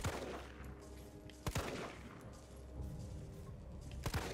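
Gunfire in the video game Resident Evil 3 Remake: several sharp, loud shots ring out at intervals over a low background of game ambience and rumbling.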